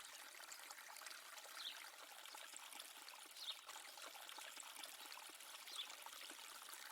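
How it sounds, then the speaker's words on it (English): Water trickles and dribbles steadily from a simple stone fountain in a Tuscan courtyard, a soft continuous splashing with an airy hiss and no voices, close and fairly quiet. "A simple stone fountain murmurs softly in the middle of the courtyard, with crystal clear water,"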